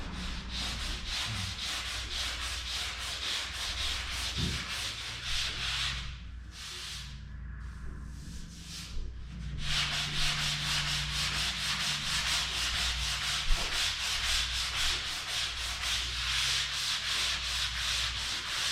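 Rapid rhythmic scrubbing of sandpaper works over a dent on the body of a Nomad camper, a close, steady rasping stroke that pauses briefly midway before resuming without talk.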